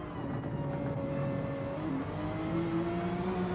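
GR3 race cars accelerating along a straight at the Nürburgring Nordschleife in a racing game, a steady engine drone with rising tones as revs climb and shift, moderately loud with no voices.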